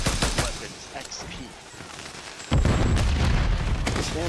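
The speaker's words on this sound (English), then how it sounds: "Stun grenade" A stun grenade goes off in a Call of Duty: Modern Warfare III match, a sudden loud burst midway that stays dense and booming for the rest of the moment, over earlier gunfire and voices talking.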